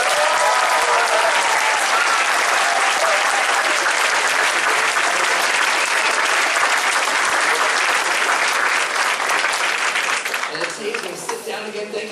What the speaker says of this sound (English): A big round of applause for these wonderful kids.